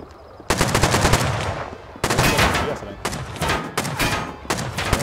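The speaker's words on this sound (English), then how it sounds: "They're just shooting this one window there" Automatic gunfire in Rust rattles at a window in several loud, close bursts of rapid shots with short pauses between them.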